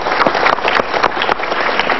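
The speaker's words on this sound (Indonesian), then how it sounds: "silakan tepuk tangan." An audience at a discussion event with presidential debate moderators claps steadily, a brief burst of fairly loud applause with uneven individual claps standing out.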